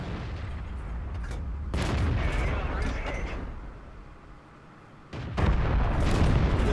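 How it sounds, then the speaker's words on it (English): In a tank video game, a TOG II's 17-pounder gun fires at point-blank range against a Sherman amid dense roaring battle noise, with a sharp heavy blast near the end. "The Tog does not miss its 17-pound shot at point-blank range"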